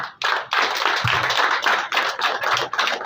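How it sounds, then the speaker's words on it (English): An audience at the official launch of a breast cancer awareness project applauds, with dense, steady clapping running nearly throughout after a brief pause at the start. "Dr. Dede deserves a really louder round of applause"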